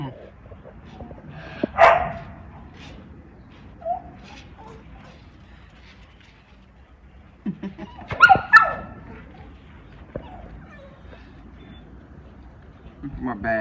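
Dogs at a residence in The Gambia bark in short bursts, one early and a cluster later, moderately near against a quiet outdoor background.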